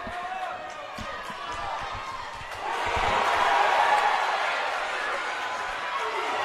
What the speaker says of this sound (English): The crowd is on its feet, ladies and gentlemen.